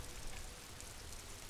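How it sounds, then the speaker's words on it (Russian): Steady rain in the game Disco Elysium, a dense even hiss of falling drops that runs on without a break and with no voices. "Великий город Ревошоль мокнет под дождем."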